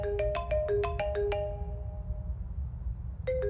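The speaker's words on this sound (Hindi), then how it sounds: "फोन उठाओ।" A mobile phone ringtone plays a bright, bell-like melody of quick repeated notes, pauses for about two seconds, then starts again, over a low background rumble in a film scene.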